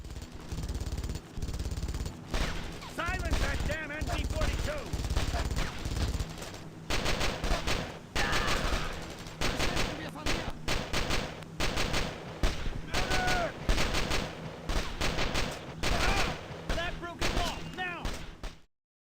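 Gunfire in a Nintendo DS cover shooter game: rapid bursts of shots and heavy impacts, loud and near, coming in dense volleys with short gaps, mixed with game effects and voices.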